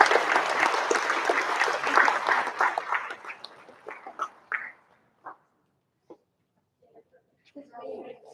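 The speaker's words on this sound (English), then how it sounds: "So let's give them all a round of applause" Audience applause at an awards night, a burst of many hands clapping that tapers off over about four seconds into scattered claps, followed by a few faint voices.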